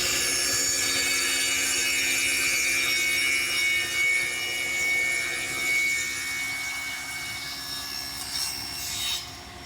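Table saw cutting a glued-up wood piece at an 11-degree angle with a miter fence, a steady high whine with the blade's tone shifting slightly as it moves through the wood.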